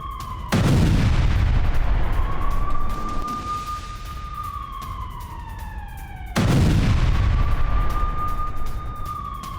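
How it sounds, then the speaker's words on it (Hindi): Two heavy blasts tear through an army border post, each a sudden loud boom at the start and again about six seconds later, with a rumbling roar and a high whining tone trailing after each one. "धमाके के साथ इस पोस्ट के परखच्चे उड़ गए"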